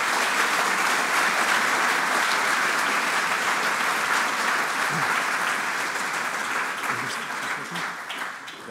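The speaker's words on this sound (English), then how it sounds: "give a big applause to welcome Dave Elliot from Google on stage today" A conference audience at an AI summit in Vienna applauds to welcome a speaker on stage. The clapping is dense and sustained at first, then slowly thins and softens toward the end.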